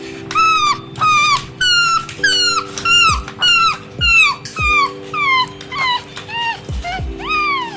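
A toy dog gives out a run of about a dozen electronic barks and yips in quick rhythm, loud and close, over a faint steady background tone.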